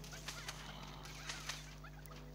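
Chickens cluck in the Plants vs. Zombies 2 video game, with several short sharp clucks at irregular intervals over a steady background music bed.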